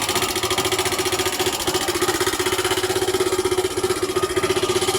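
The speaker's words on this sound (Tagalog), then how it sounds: "Kasi parang pinupukpok ng martilyo yung makina niya." A Yamaha FZ motorcycle engine idles with a knocking fault, a loud, close, rapid and even pulsing beat with a hammer-like tapping that repeats steadily for the whole stretch, without any voices.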